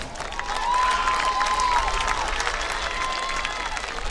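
A stadium crowd at a 2023 homecoming game applauds and cheers for homecoming nominee Emily Robertson, a broad wash of clapping with faint whistles and shouts rising early and holding steady.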